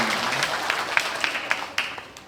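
Audience applause at a Balinese drama gong stage performance, a soft, fading patter of clapping with a few sharper individual claps standing out as it tapers off.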